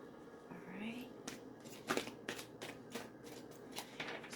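Tarot cards are shuffled by hand, giving a series of quick riffling bursts at an uneven pace, close and soft, with a voice speaking briefly near the start.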